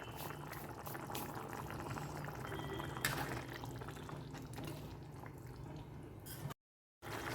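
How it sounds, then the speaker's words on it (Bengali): Soybean dal boils steadily in a pot, a continuous close bubbling and gurgling hiss that cuts off briefly near the end before resuming. "এটা যখন ফুটে উঠেছে"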